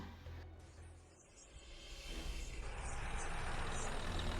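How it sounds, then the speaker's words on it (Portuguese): A military truck drives into a forest at night, its engine rumble swelling from a low idle into a steady, loud, close drone. "Durante a noite, um caminhão militar adentra a floresta."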